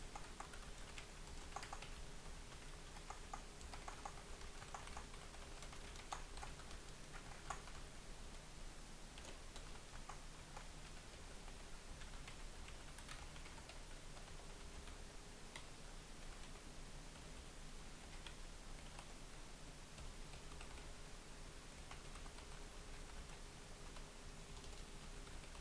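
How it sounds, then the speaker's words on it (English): Steady, quiet clicking of a computer keyboard while sources are typed into a citations document, keystrokes coming in quick uneven bursts over a low background hum. "And then I'm going to start typing in my sources."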